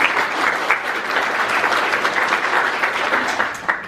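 Sustained audience applause at a panel discussion event, acknowledging a partner organisation; dense, steady clapping from a crowd lasting the whole few seconds with no talk over it.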